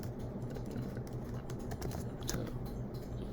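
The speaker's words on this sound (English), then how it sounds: "So let's just type in Naruto for now." Continuous typing on a computer keyboard while entering text in Adobe InDesign, a steady patter of close, quiet keystrokes over a faint background hum.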